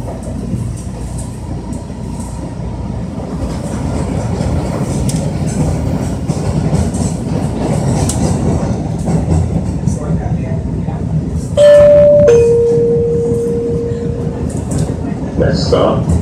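A Boston MBTA Blue Line subway train rumbles and rattles steadily along the rails, loud and close, with a brief high electronic tone near the end.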